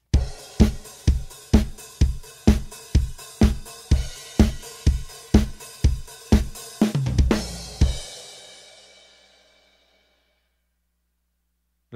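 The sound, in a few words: drum groove with bass drum, toms, snare and crash cymbal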